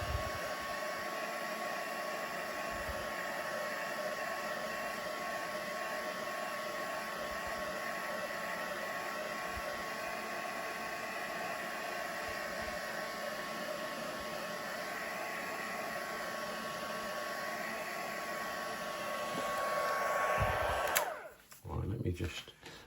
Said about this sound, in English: I need to obviously dry the ink. I'm just working my way kind of systemically across it, giving it all the heat.